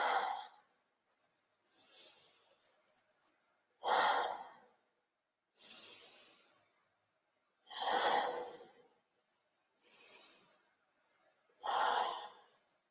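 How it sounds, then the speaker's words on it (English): A slow, deliberate breathing exercise with audible breaths in and out, close to the microphone. About six long, airy breaths rise and fall in an even rhythm, with quiet gaps between them. "So finger breathing is, you breathe in, yes, and then you breathe out."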